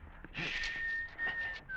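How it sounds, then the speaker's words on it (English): Man whistling a steady tone in a radio drama, a short thin whistle held for about a second over faint breathy background noise. "the whistling of the gunner was a guide"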